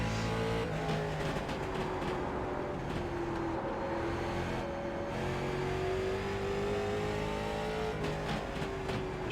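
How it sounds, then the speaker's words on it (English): A late model race car in iRacing at Concord Speedway, engine droning loud and continuous with shifting revs, while faint pops and crackles from the exhaust are barely picked out under the steady roar. "I love the way the car backfires and just that pop and crackle you hear."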